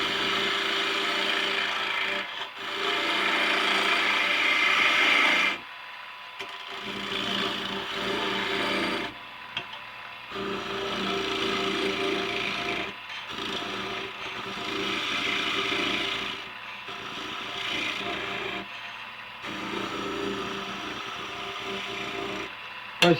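A skew chisel peels shavings from wood spinning on a lathe, making a steady, loud scraping hiss that runs in long passes broken by brief silent gaps.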